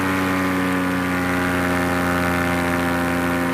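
A steady aircraft engine drone at altitude, loud and continuous with a low, even hum and constant level throughout, no talking.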